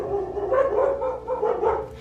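Dogs bark in a quick series of close, moderately loud barks and yips, several bursts in a row with brief gaps between them and no voices.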